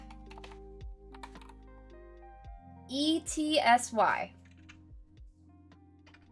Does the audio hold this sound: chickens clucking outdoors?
no